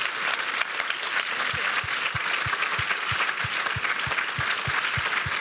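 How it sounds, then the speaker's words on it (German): Audience applause for a speaker at a symposium on democracy and feminism, a broad continuous clapping wash with a steady rhythmic beat of synchronized claps pulsing underneath, even and sustained. "Und das ist jetzt einfach nochmal ein Applaus für dich"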